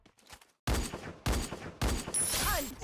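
Gunfire in the video game Free Fire fires in three loud, close bursts of shots, preceded by faint sounds, with ringing tones trailing the last burst.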